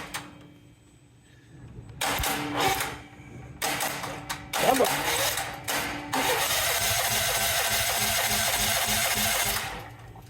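A $150 junkyard LS 5.3 V8's starter motor is jumped with a flathead screwdriver, whirring in several short cranking bursts, then one long sustained crank, close and fairly loud in a quiet setting without talk.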